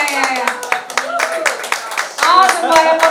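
An audience applauds after the signing of a declaration at an Indonesian election-integrity event. Scattered hand claps run throughout beneath loud, continuous talk from an amplified voice.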